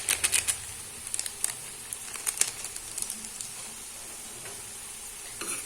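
Spices, coriander and red chilli powder being stirred into half-sweet amla (Indian gooseberry) pickle, giving scattered light scraping and clicking stirs, clustered at the start and thinning out, quiet and close with no talking.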